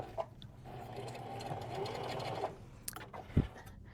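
A Singer 4452 sewing machine runs a decorative stitch on plain pink fabric, its steady mechanical whirr lasting about two and a half seconds before stopping, followed by a few small clicks and a thump.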